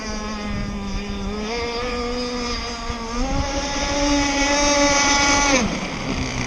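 A Zenoah 30cc gas engine, apparently in an RC boat on water, drones steadily at idle, then its pitch climbs and holds higher as the throttle is squeezed before dropping back near the end; close, continuous and loud, with no talk.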